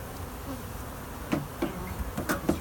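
Honey bees buzz from an opened hive in a close, continuous drone, with a few sharp knocks and taps breaking through near the end.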